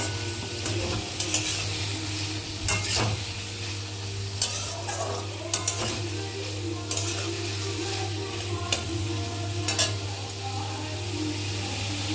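Ridge gourd frying in oil with salt, turmeric and slit green chillies, a continuous close sizzle with intermittent scraping and stirring strokes over a low steady hum.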